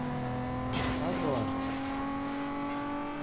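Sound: racing car engine in video game Need for Speed Underground 2

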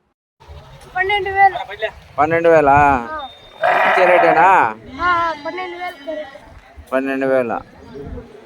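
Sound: sheep and goats bleating at a livestock market

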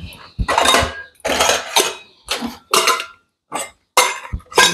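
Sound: dishes and utensils clattering

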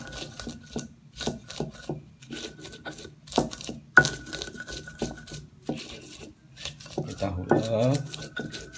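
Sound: grinding chili and tomatoes with a mortar and pestle

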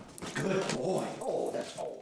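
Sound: trained bedbug detection dog whimpering

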